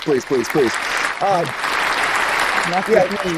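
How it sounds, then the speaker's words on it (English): A round of applause from an audience rises as a broad, steady wash in the middle, with a voice talking over it at the start and again near the end. "Round of applause for laying the smackdown, everybody."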